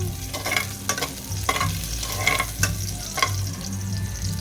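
Hot garlic and ginger sizzling in a pan, a steady frying crackle with rhythmic stirring scrapes every half second or so, close and fairly loud with no talking.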